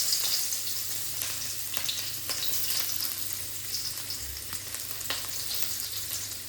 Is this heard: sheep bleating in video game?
no